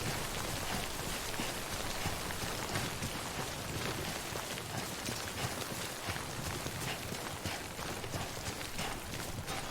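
Steady, soft rain falls in the video game Death Stranding, a continuous even hiss of drops with no voices.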